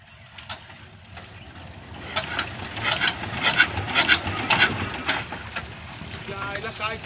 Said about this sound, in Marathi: आता आपलं इंजन स्टार्ट होत आहे।